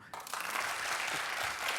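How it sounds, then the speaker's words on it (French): Studio audience of the quiz show Questions pour un Champion applauds contestant Fatima, a sustained burst of clapping starting abruptly and continuing steadily. "Je vous applaudis."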